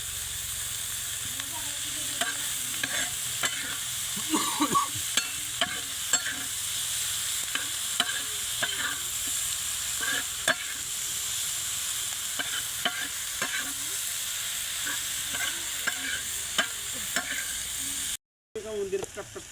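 Dried fish (sukat) sizzles steadily in a hot pan while being stirred, with repeated scraping and clinking of the utensil over a continuous frying hiss.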